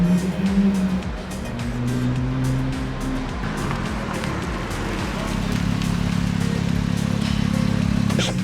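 A lowered Porsche Cayman on fresh coilovers makes a quick shakedown run, its engine droning steadily with rising and falling revs and a constant rumble of road and tire noise throughout.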